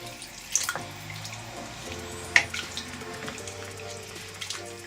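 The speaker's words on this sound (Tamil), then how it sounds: "நான் இன்னும் கொஞ்சம் தண்ணி ஊற்றுக்கிறேன்." Water pours into a pot of simmering chicken kulambu, a soft, continuous splashing stream with a few sharper drips and spatters, fairly quiet and close, with no talking.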